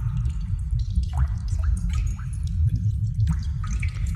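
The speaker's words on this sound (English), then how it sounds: "It's funny that you hear the water dripping, but there's like no water in the cave that you see yet." Scattered water drips fall one by one at an uneven pace inside a cave, echoing lightly over a steady low rumble.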